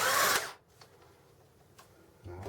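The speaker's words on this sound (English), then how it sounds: "I just put this thing into a drill." A power drill whirs briefly and loudly at the start, then stops, leaving quiet room noise with a couple of faint clicks.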